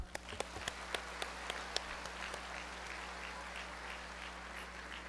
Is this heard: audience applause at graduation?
yes